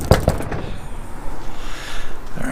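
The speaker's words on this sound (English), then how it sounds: "So we're gonna knock right here and see if he's around." Two sharp knocks on a door in quick succession, followed by quiet room ambience.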